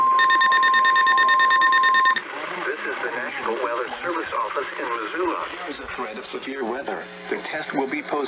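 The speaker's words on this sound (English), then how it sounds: "Preceding signal was a test of the weather radio station" Weather radio emergency alert tone from a test broadcast: a loud, steady alarm for about two seconds, then a broadcast voice speaking over a constant background.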